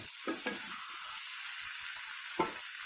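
A soft hiss of frying sits under a couple of scraping stirs as spice powder is mixed into a baby corn curry, the strokes faint and sparse against the steady pan noise.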